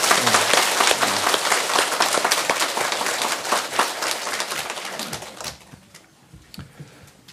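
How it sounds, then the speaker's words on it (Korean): A lecture audience at a Buddhist teaching hall breaks into loud, brisk applause, many hands clapping close by for about five seconds before thinning out and fading to scattered claps. "박수 한번 크게 주십시오"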